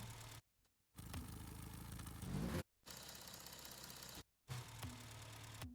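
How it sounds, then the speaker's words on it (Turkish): A car engine in Rocket League hums and revs steadily, broken by a few abrupt silent gaps, with a synthetic, game-like tone. "Motor sesi bence güzel"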